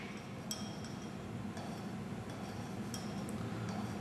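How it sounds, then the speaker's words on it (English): A spoon stirs and scrapes through glue in a container, producing a soft continuous rustle with occasional sharp light clinks against the side, moderately close and alone. "we'll just wipe off the spoon and use that to stir the glue so that it becomes a uniform solution"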